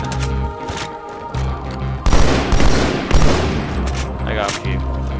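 Rifle gunfire in Halo 2 on a Legendary campaign level, a loud burst of rapid shots followed by further bursts over the game's background sound.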